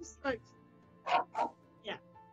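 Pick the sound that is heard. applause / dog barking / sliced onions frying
dog barking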